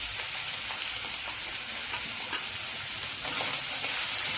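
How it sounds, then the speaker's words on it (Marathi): A Marathi-style tempering of spices sizzles in a hot pan as turmeric is added and stirred, a loud, steady, close frying hiss with faint scrapes and crackles throughout and no talk. "आता हे मी जरा परतून घेणार आहे, त्याच्यावर हळद टाकते"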